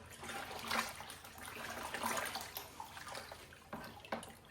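Lime water being stirred in a container while sweet pickles are prepared, giving faint swishing and trickling sloshes in uneven bursts, close and fairly quiet with no talk.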